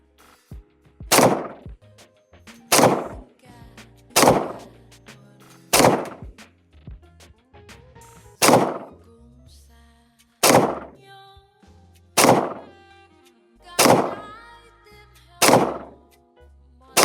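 A CZ P09 Nocturne pistol fires Federal 115-grain 9mm training rounds, ten loud sharp reports spaced at a steady, unhurried pace, each with a brief ringing decay, close to the microphone.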